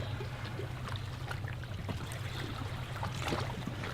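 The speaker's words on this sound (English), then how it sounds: "All you can hear is the birds and the lapping of the waves." Waves lap gently on a quiet pebbly beach on the north-east coast of Corfu in the early morning, a continuous soft wash with small trickling splashes over a low steady rumble.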